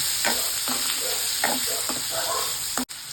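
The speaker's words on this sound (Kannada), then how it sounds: "ಈಗ ಇದು ಮ್ಯಾರಿನೇಟ್ ಮಾಡಿ ಇಟ್ಟಿದ್ದೆಲ್ಲ ಪನ್ನೀರ್ನ ಸ್ವಲ್ಪ ಫ್ರೈ ಮಾಡ್ಕೊಳ್ಳೋಣ." Marinated paneer fries in oil in a pan, with a steady sizzle and occasional scraping stir strokes from a spatula, close by and fairly loud, and a brief knock near the end.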